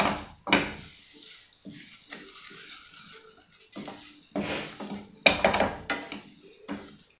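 A spoon scrapes and clatters against a pan while grated coconut and sugar are stirred together over heat, giving irregular knocks and scraping strokes, some sharp and loud, with quiet gaps in between.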